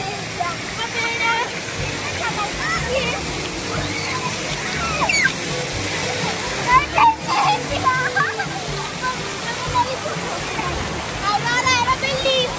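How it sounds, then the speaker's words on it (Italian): Water in an outdoor swimming pool splashes and sloshes continuously at close range, while someone talks over it throughout. "Senti l'acqua, non ha nemmeno freddo."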